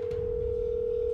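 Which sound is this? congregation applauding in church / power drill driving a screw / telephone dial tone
telephone dial tone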